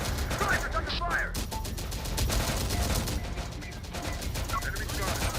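Rapid video game gunfire, with machine-gun bursts and scattered shots, rattles on continuously over a busy battle mix, and in-game voices call out now and then.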